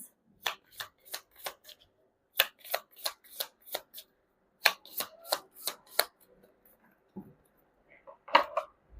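Tarot cards are shuffled by hand, up close, in quick crisp bursts of riffling. The bursts come in clusters separated by short silent gaps, with no talking.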